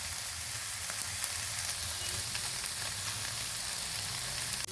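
Eggplant frying in a little oil over low to medium heat, a steady close sizzle and crackle with no speech.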